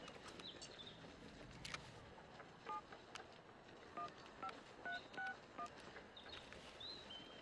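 A phone number is dialled as a short run of DTMF touch-tone beeps, about eight evenly spaced tones, faint and clean over a quiet room hum with no talk.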